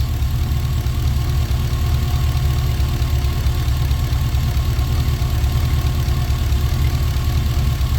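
A GM LS V8 idles steadily after a fuel injector wiring repair, a loud, even low rumble running unbroken with no talk over it.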